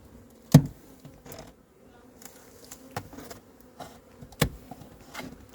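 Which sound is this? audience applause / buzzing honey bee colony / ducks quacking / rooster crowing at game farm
buzzing honey bee colony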